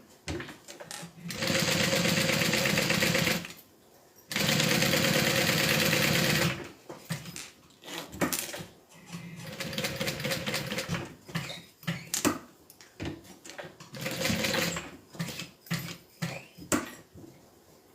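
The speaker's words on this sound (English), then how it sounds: "We're going to sew around the inside of this box to connect our pocket." A sewing machine stitches around the inside of a box seam to attach a pocket on a handmade bag, running in two long steady loud bursts and then shorter stop-start runs with brief pauses.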